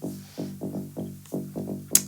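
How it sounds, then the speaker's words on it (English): A filtered tech house bass line pulses in a steady, bouncy pattern of short muffled notes, quiet and on its own, with a brief bright click near the end. "it starts with just a filtered bass"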